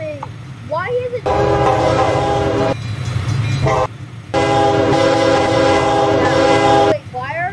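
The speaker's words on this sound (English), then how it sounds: "Wait, why are the trains so slow?" Trains on a Roblox railcam game sounding their horns in two long, loud blasts separated by a short pause, with a low rolling rumble beneath and brief chirpy synthetic tones at the start and end.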